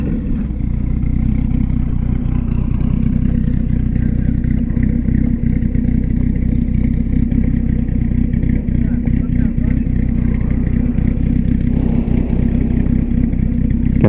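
A Dodge Viper engine of about 500 horsepower idles with a low, steady rumble at a Cars and Coffee meet, loud and close, with a few revs and people talking nearby.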